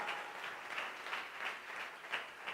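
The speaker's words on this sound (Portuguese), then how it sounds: "Você pode aplaudir o Senhor porque Ele é digno?" A church congregation claps together in a faint, rhythmic applause, pulses of hand-claps swelling and easing at a steady pace, heard from a distance with no clear voices.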